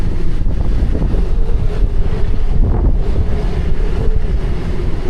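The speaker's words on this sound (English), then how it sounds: "that wind is terrible" Strong wind buffets the microphone in a constant loud roar at an outdoor aviation museum, with no clear break over the whole stretch.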